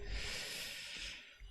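Someone imitates snoring with a single faint, breathy, hissing snort drawn out over a second or so, alone and close by.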